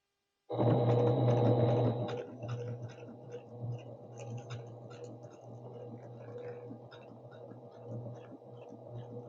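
A sewing machine runs a quick burst of triple stitching on a torn spinnaker sail, a loud whirring hum for about a second and a half, then settling into quieter intermittent mechanical clicks and hum.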